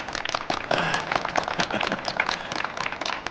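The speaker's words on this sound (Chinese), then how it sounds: "大家鼓掌" A class of deaf students claps for a new young teacher as he is introduced. The applause is a dense, brisk patter of many hands, fairly close and steady for a few seconds, with no talking over it.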